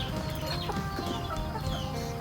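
Chickens cluck steadily on a small Thai farm where ducks and chickens are raised, a dense overlapping chorus of nearby hens with scattered sharper calls throughout.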